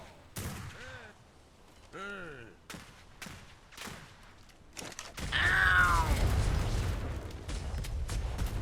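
Small arms fire in a naval roleplay game, with scattered sharp shots and cracks amid a noisy battle scene, heavier rumbling after the midpoint, and voices talking over it.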